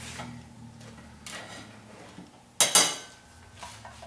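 Pan and utensil clatter as triple pepper cornbread is worked out of a baking pan, with a few light scrapes and one sharp loud knock of metal near the middle, close by and without talk.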